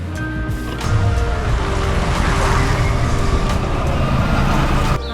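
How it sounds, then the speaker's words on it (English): Water splashes steadily from a small pond fountain in a Marrakech riad garden, a continuous broadband rush heard close and fairly loud with no talking. "Nice little pond fountain in the middle."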